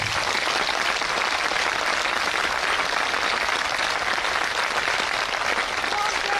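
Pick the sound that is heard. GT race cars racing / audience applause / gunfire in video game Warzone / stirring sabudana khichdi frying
audience applause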